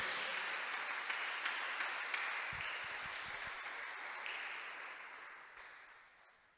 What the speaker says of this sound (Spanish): Dale un aplauso a Él, Él se lo merece.